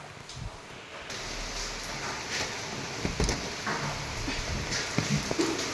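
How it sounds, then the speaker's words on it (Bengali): Steady rain falls outdoors, a soft diffuse hiss running throughout at moderate level with a few faint knocks and rustles mixed in. "ছাতাটা নিয়েই যেতে হবে, ভালোই বৃষ্টি হচ্ছে।"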